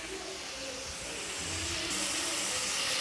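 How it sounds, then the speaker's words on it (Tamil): Tomatoes with salt sautéing in a pan for an idli and egg gravy, a steady close sizzling hiss that grows slightly louder with no talk. "இட்லி தக்காளி தக்காளி கொஞ்சம் வதங்கிறதுக்கு உப்பு போடுறேன்."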